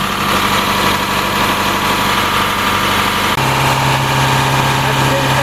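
International RE30 rear-engine school bus engine running steadily at 2000 RPM, a loud continuous drone with a slight shift in tone partway through, heard close up with no talking.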